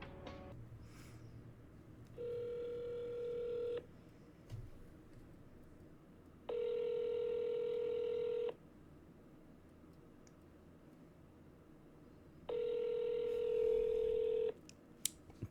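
A telephone call to a vacuum store number: three long ringback tones, each about two seconds, separated by pauses over a quiet hiss, heard alone and fairly faint.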